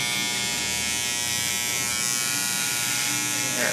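A close electric detailer trimmer hums with a constant steady buzz as it cuts hair during a fade, and the tone stays even throughout.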